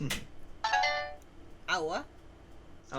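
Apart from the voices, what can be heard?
phone ringtone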